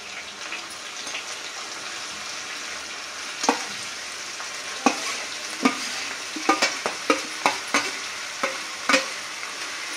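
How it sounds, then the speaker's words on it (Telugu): Chopped cabbage frying with green chillies, curry leaves and garlic, a soft steady sizzle under a run of crisp spatula taps and stirs that come faster toward the end. "ఇలా పచ్చిమిరపకాయలు వేగగానే అందులో కట్ చేసి పెట్టుకున్న క్యాబేజ్ వేసుకోవాలి."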